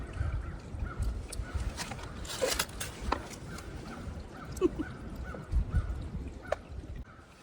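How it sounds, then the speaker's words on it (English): Faint birds call and caw outdoors at a distance, scattered and overlapping, over a steady low background rumble. "Why are the birds so noisy right now?"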